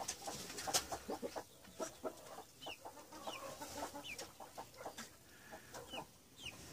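Ross 308 broiler chickens cluck repeatedly in a farm setting, a busy stream of short, uneven calls from several birds close by, with no talk.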